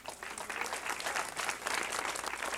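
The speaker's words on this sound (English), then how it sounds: "Give her a round of applause." A city council chamber audience applauds a school band director, a brief, dense burst of many hands clapping at a moderate distance.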